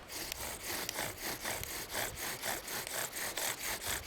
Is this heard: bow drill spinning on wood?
yes